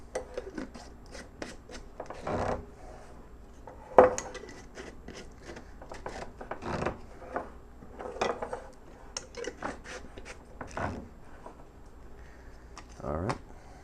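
Screw-on lids tightened onto grain spawn jars: a series of close, scattered scraping and clicking twists of thread against glass, irregular and fairly quiet, with short gaps between turns.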